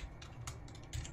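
A computer keyboard being typed on while setting up a Windows 11 installation, heard as a few quiet, sparse key clicks, faint and close, with no talk.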